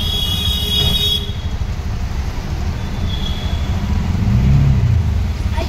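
Auto rickshaw driving to a parking spot, its engine a steady low rumble throughout with road noise, no talking.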